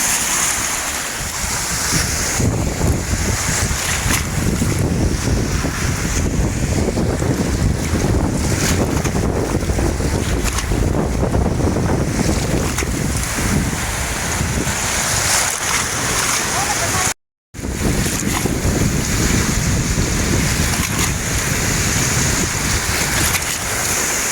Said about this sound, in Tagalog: Naka-high tide din siya. High tide na yun eh. Naka-high tide. Ano, lumalakas na.